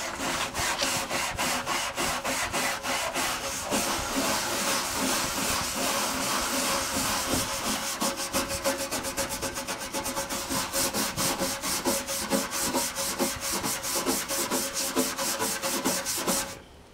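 A dirty part from a 1991 Packard Bell Legend 386X computer is scrubbed by hand, giving a close, continuous rhythmic rubbing and scratching that runs without talk for the whole stretch.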